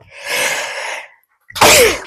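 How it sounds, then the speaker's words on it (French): A single person sneezes once, loud and close: a drawn breathy intake, a short pause, then the sharp explosive burst. No talk. "Je vais éternuer."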